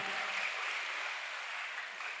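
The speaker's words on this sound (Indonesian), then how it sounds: "Tepuk tangan Aceh di Sumatera Utara" Applause for attendees from Aceh and North Sumatra at a public lecture on farming in Malang, a steady, dense wash of clapping from a crowd, fairly soft and continuous with no voices over it.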